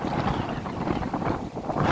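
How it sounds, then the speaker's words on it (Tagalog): Heavy wind and big waves at sea around a ship standing by at anchor off Asry Beach, Bahrain, in bad weather: a dense, constant roar of gusts and rushing water, loud and unbroken, with no voices. "dili madala tungod sa kadagko sa bawod ug kakusog sa hangin"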